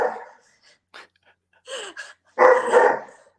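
Dogs bark in short, sharp bursts nearby. Several yips and barks come in irregular clusters between silent gaps, with one louder, sustained burst near the end.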